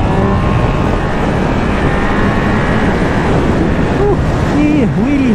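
Triumph Speed Triple 1200RS motorcycle leaning through a bend, its engine note swelling beneath heavy, constant wind roar, with a rider speaking over it.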